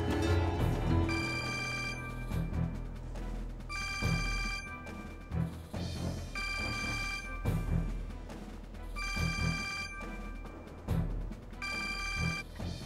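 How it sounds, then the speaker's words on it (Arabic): A telephone rings repeatedly and goes unanswered, bursts of bright ringing separated by short gaps over an underlying music bed, with no one talking. "ليش لهلا ما رد على التليفون؟"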